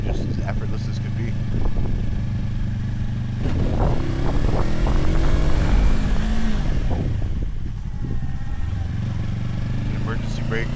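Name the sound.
Yamaha R3 300cc motorcycle engine accelerating in second gear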